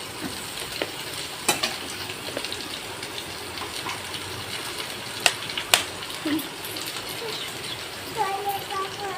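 Two dried chilies with cinnamon, cloves and green cardamom sizzle in hot mustard oil in a kadai, a steady crackling fry with sharp pops and stirring clatter, fairly close.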